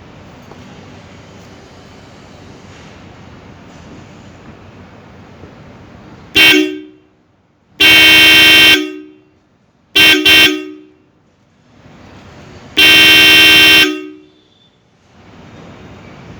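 Roots Vibrosonic horns fitted to a Maruti Suzuki Ertiga blast in four loud, close bursts, two long and two short with a double toot, separated by quiet idle gaps.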